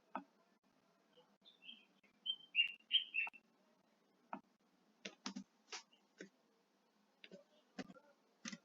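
Sparse, quiet clicks of typing on a computer keyboard come in small clusters, with a few short chirpy tones early on and no one talking.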